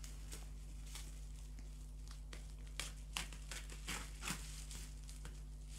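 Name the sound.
bubble wrap being cut and removed from a reborn doll box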